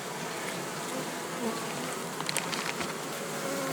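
A dense, steady hum of many honeybees buzzing at a hive during rapeseed flow, close by, with brief louder passes as individual insects fly near.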